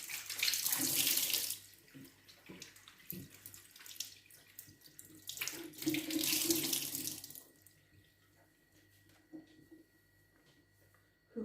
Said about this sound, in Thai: ผ้าชุบน้ำ